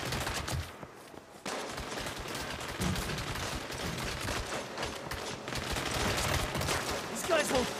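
Rapid automatic gunfire and overlapping shots from the video game Saints Row fill a gameplay fight scene, continuous and loud with brief lulls, occasional shouting voices mixed in.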